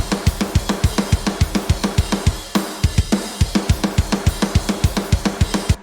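A processed drum sample loop for a cover plays with a fast, steady beat, loud punchy kicks and snare hits with bright cymbal wash, no voices.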